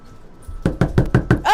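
A run of five sharp knocks on a door at an even, steady pace, loud and close, with a brief rustle at the end and no talk.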